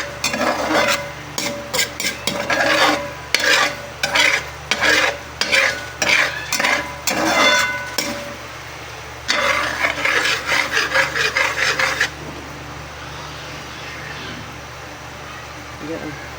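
Spoon scraping and stirring coconut milk in a pan while cooking it down into latik oil, rhythmic bursts of scraping strokes over a low sizzle, close and loud, fading to gentle frying near the end.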